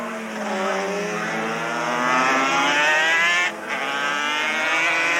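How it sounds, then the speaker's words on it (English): A racing motorcycle at Symons Plains downshifts through the gears, its engine a loud, steady high-pitched whine whose pitch steps down with each shift, followed by a brief dip and a return to full power. "So, fourth place, John Warrior, working his way down through the gears."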